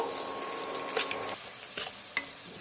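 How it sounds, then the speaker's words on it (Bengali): Thinly sliced onions frying with spices in a pan for a mixed vegetable dish give a steady soft sizzle, with a couple of sharp clinks of a spatula against the pan. "পেঁয়াজটা আমি সমস্ত মশলার সঙ্গে এইভাবে একটু লাল লাল করে ভেজে নেব"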